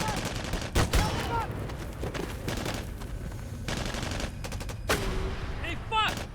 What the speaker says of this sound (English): Arash, ceasefire, make them stop.